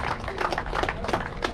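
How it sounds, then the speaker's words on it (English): A crowd at a bricklaying competition awards ceremony claps steadily, the dense patter of many hands filling the space without pause. "Let's give a big round of applause to Grant and Scott Helms for a big fight"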